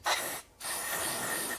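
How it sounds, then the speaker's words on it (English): Two hissing bursts of lithium grease sprayed from an aerosol can onto a plastic vent-line grommet on a car, a short spurt then a longer one after a brief pause, close to the microphone. "let's spray it with some lithium grease"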